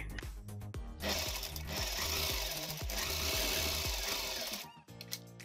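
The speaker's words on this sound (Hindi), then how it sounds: "अब हम इसके चारों तरफ एक सिलाई लगा देते हैं और उसको दोनों कपड़े को फिक्स कर लेते हैं" Sewing machine stitching all around two layers of fabric for a homemade face mask, a loud steady mechanical whir with rapid needle rhythm running almost continuously, briefly pausing near the end.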